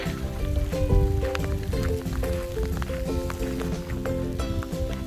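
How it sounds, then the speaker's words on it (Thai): Steady rain patters and splashes continuously with a broad watery hiss, falling in sunshine on a mountain at Fisser Joch, Austria, joined by a low droning hum throughout. "ฝนตกตอนมีแดด"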